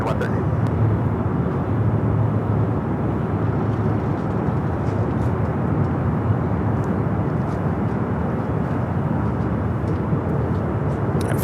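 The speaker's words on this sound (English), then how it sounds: "Philippine Flight 113 heading back to Manila" A Philippine Airlines heavy airliner, Flight 113 bound for Manila, rumbling at LAX as a steady, loud broadband roar that holds constant throughout without clear rises or fades.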